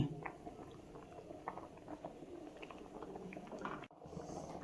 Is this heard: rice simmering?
yes